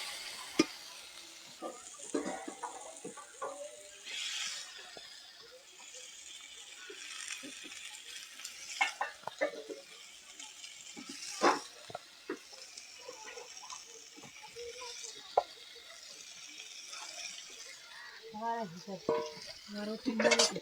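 Potatoes being stirred into a spiced tomato masala frying in a pan, soft scraping and rattling strokes over a gentle sizzle, close and fairly quiet, with occasional clinks of the spoon.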